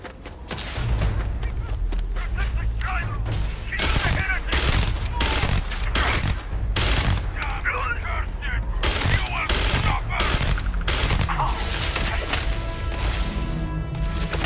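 A weapon firing in the video game Starfield, Shattered Space expansion: loud, rapid bursts of gunfire repeating almost without pause over steady game ambience, with a few sharp impacts and a sustained tonal hum near the end.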